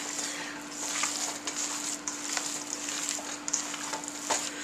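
Stuffed pepper filling being mixed by hand with rice in a bowl, a steady soft wet squishing and stirring texture with small irregular bursts, close and continuous throughout.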